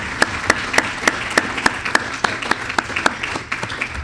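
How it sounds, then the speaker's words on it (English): An audience gives two guests at an economics debate a round of applause, with steady, fairly loud clapping from a crowd lasting several seconds and no voices. "let's give both of our guests another round of applause"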